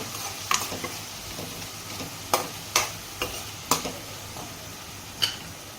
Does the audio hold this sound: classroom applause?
no